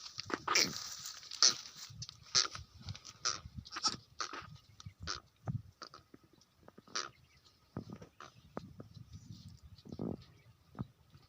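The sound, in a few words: goat bleating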